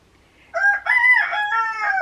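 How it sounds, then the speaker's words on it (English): Two roosters, one large and one small, crow in turn from nearby, one harmonic call flowing straight into the other after a brief quiet start, with no talking. "You hear the big one and you hear the small one."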